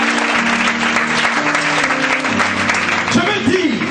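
A church congregation applauds loudly and steadily at a worship service, dense clapping throughout with voices mixed in and a rising shout near the end.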